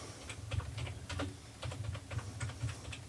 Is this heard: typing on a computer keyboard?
yes